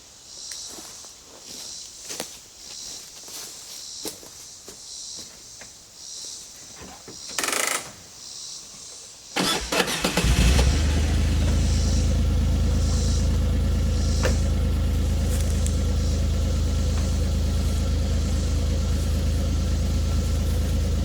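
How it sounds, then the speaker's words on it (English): Quiet outdoor movement and rustling, then a 2020 Kawasaki Mule Pro FXT utility vehicle engine cranks, catches and settles into a loud, steady idle that runs on. "I'm going to have to start the Mule. I don't want to drain the battery down. That way you're going to hear a little engine noise."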